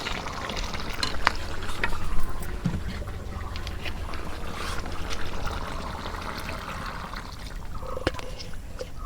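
Water poured into chicken curry cooking in a pan makes a soft, splashing trickle with faint sizzling, quiet and close, with a few clinks of utensils.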